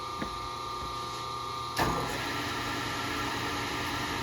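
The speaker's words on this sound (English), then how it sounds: "I'm going to turn the main motor on, the spindle motor of the South Bend" A 1 horsepower spindle motor on a South Bend lathe, fed by a rotary phase converter, starts with a sudden surge and then settles into a steady, even electrical hum and whir that continues alone.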